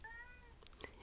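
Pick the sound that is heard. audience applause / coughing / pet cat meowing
pet cat meowing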